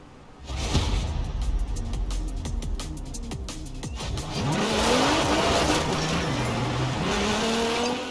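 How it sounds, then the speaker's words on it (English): Nissan GT-R Black Edition in Forza Horizon 4 accelerating hard, its engine revving up through the gears with a steady loud roar and brief tire squeal, alone without talk. "This is my GTR, the Black Edition. I want you to take it down to the festival"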